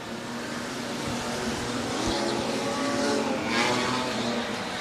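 Super stock race cars roar around Rockhampton Speedway, a thick, continuous engine drone from several cars at distance, swelling slightly as they pass, with no voices over it.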